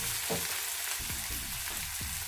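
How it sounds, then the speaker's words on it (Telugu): Onions and tomato fry in a pan for dabaha dal, giving a steady close sizzle broken by several rhythmic stirring strokes, with no voices. "ఉల్లిపాయలు కొంచెం మెత్తబడే వరకు వేయించుకోవాలి"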